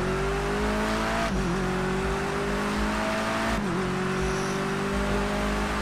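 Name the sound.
touring cars racing in video game Project Cars 2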